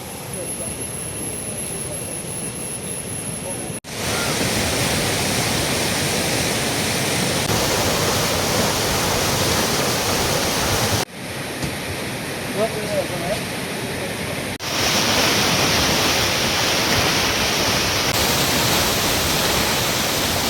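A powerful, continuous roar of a flooded river overflowing its banks at Thayyur Alikkal Chira fills the scene, loud and broadband, with a few abrupt cuts between takes.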